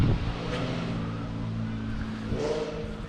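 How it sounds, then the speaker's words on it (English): The engine of a VW Golf R32 rises and falls in a short drive-by while the driver blips the throttle on downshifts. It is heard from outside as a steady mid-distance rumble with a brief swell near the end. "I told him blip the downshift, he's doing it."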